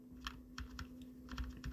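Keyboard key presses while drawing a gift-box lid in illustration software on a computer: about eight crisp, separate taps at an irregular typing pace, close and fairly quiet, with no voice over them.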